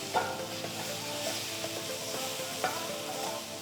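Ginger garlic paste frying in a pan for mutton keema samosa filling, a soft steady sizzle with light scraping stirs and a few sharper clicks, fairly quiet and close.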